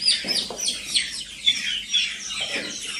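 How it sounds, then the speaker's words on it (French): Feather-footed chickens at a farm cluck and chirp close by, sounding as a busy overlapping chatter of short calls in a steady stream, with no talk. "Les poulets qui ont les plumes aux pieds, là, les pantalonnés, voilà."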